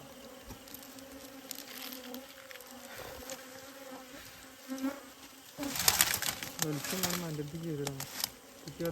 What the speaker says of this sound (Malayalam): തേനീച്ചകൾ നന്നായിട്ട് അളകിണ്ടായിരുന്നു